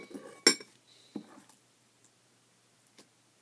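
A spoon stirs pink slime, giving a sharp clink at first, then a few scattered wet clicks and taps that fade to faint ticks in near silence.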